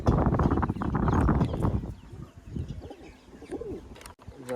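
Soft, repeated cooing of a pigeon kept for training, several low rolling coos in close succession, heard fairly near with no talking.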